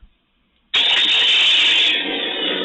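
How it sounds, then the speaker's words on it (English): A lightsaber running a Kyber Phonic speeder sound font ignites abruptly after a brief silence, then holds a loud, steady, engine-like hum. "This is the speeder font from Kyber Phonic, I believe."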